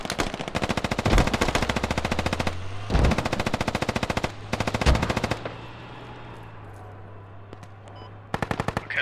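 Automatic machine gun fire in the tactical shooter game Squad: several long, rapid bursts follow one another closely, a quieter pause comes next, and a final short burst ends it, all loud and close.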